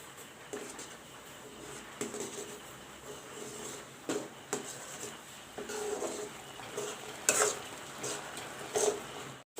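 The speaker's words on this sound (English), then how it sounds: "I will put the suji in this way and keep on stirring it" Semolina for upma being stirred in a pan with curry leaves, soft scraping and stirring strokes with light sizzling, faint and close, broken by a few sharper utensil clinks against the pan.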